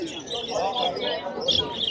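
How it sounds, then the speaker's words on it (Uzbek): Assorted caged birds chirp and coo at a bird market, their calls rising over a low babble of people talking nearby. "Mana Namanganlik akalarimiz har xil qushlarni olib chiqishgan mana."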